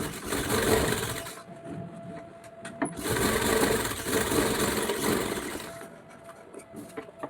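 An electric sewing machine stitching a blouse runs in two steady whirring bursts, a short pause between them and a brief lull near the end, the motor hum close and continuous while it runs.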